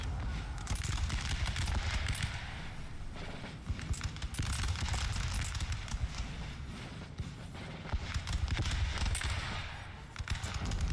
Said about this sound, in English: Yeah, those are fireworks.